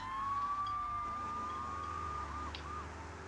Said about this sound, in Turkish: Köprüye ambulanslar falan gidiyor.